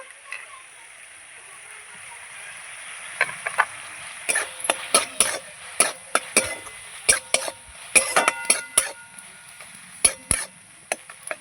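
Chopped bread being stirred and mashed into a cooking mixture in a pan, with a soft sizzle under irregular clinks and taps of a utensil against the pan that grow busier over time.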